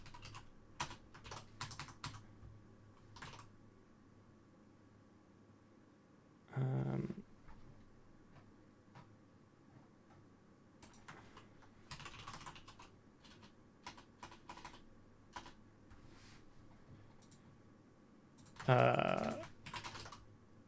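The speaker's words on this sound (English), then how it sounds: "I'm going to love typing all these out" Someone types on a computer keyboard while coding a hacking toolkit, with irregular bursts of close, crisp keystrokes and a couple of louder thumps.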